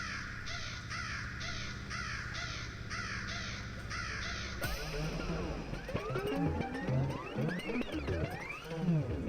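Crows caw repeatedly in the video game The Stanley Parable, a string of harsh, overlapping calls that rise out of steady background music and carry on loudly to the end.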